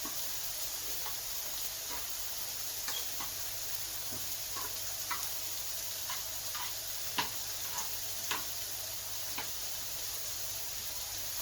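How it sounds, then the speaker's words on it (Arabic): Food frying in oil in a pan, a steady close sizzle and hiss with scattered small pops and ticks running throughout, no voices. "نخليوه يتحمر شويه بالزيت."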